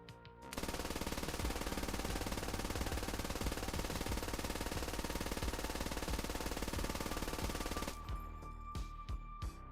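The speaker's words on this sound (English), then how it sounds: "They also get an MG3 for their automatic rifleman." An MG3 machine gun in a Squad Bundeswehr mod fires one long, unbroken automatic burst for about seven seconds, loud and close, then stops and leaves a few scattered clicks.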